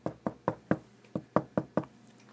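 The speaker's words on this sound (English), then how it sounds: "I didn't even hear him knock." A door being knocked on, eight sharp, evenly paced knuckle raps in a steady rhythm, close and loud with no voices.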